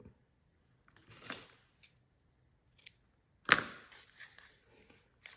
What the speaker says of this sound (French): Allez, on va couper.